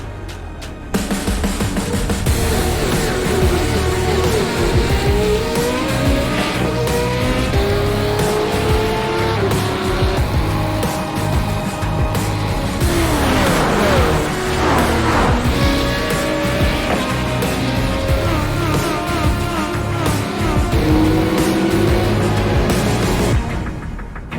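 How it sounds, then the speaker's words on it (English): Dirt late model race cars in the iRacing video game roar continuously and loudly, with engine notes rising and falling as the cars pass, and tires squealing and skidding on the track. "This is the original esport racing game. This is iRacing."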